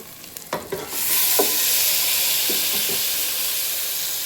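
Mutton pieces land in a hot pan with onion, turmeric and ginger-garlic paste, a few clattering stirs followed by a loud, steady sizzle and hiss of frying that carries on without pause.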